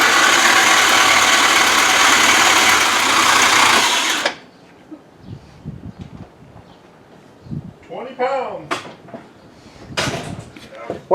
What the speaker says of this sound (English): Alright guys, here goes the first startup.